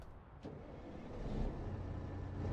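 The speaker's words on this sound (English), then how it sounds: "So we'll start the engine up." Truck engine in American Truck Simulator turning over and settling into a steady low rumble that builds slightly in loudness, heard alone.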